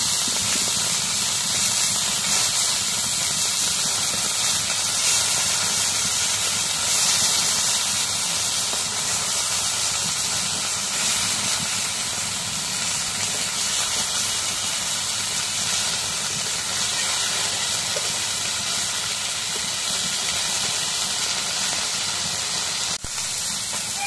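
Fish frying in a pan of hot oil, a steady, loud, unbroken hiss of sizzling that fills the whole stretch with no talk over it.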